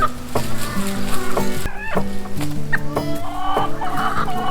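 Layer hens on a poultry farm cluck in a busy flock, overlapping rhythmic clucks and squawks close by, with a few higher calls rising over the steady chatter.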